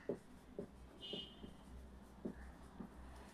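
Chalk or marker writing points on a classroom board, a few soft scratchy strokes spaced apart with a short squeak, quiet and close, no voices.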